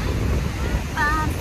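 Strong sea waves surge and wash steadily over an outdoor rumble of wind at a Palawan beach. A brief high tone cuts in near the end.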